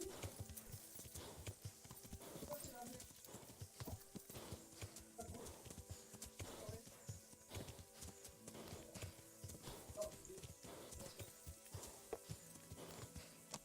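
Horse hooves clip-clop steadily in Kingdom Come Deliverance, a continuous walking rhythm of hoofbeats heard close and fairly faint, with occasional soft snorts.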